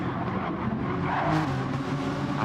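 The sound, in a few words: race car tyres squealing into the final turn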